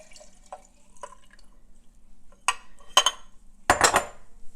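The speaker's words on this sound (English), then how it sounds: "We'll get the water in here." Water is poured and splashed into a glass jar for a hot bath extraction of lion's mane mushroom, with scattered drips and clinks, then a few louder bursts of pouring near the end.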